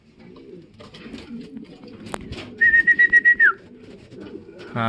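Racing pigeons arriving home coo softly and continuously nearby, with a short high-pitched electronic beeping tone sounding partway through.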